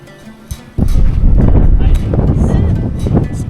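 After a quiet start, strong wind in the Namibian desert suddenly slams into the microphone near an old windmill and watering hole, a loud, continuous buffeting roar that keeps surging and never fully drops away.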